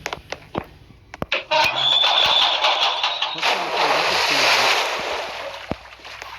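A vehicle engine starting up in the Roblox video game, a few sharp clicks followed by a rising, sustained engine roar that continues for several seconds, with no voices over it.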